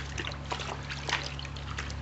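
Aquarium filter media get scrubbed by hand in a container of water, a continuous soft trickling and sloshing with light splashes, heard close over a steady low hum.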